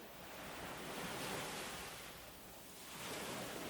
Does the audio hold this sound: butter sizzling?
no